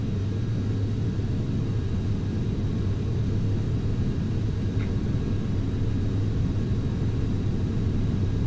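Boeing 737-800 jet engines during the takeoff roll in the FSX flight simulator, a steady loud low rumble and roar that holds constant throughout with no talk.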